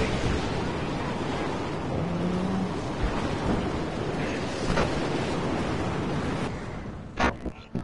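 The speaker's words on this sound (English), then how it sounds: "It's raining. Yeah, it would be raining." Heavy rain hisses continuously with rumbling thunder in the open wasteland of a Mad Max video game, a dense wash of noise that fades slightly at the end, with no talk.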